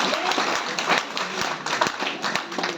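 An audience at an indoor program in Manali claps steadily, dense overlapping applause that swells and dips in waves, loud and close throughout.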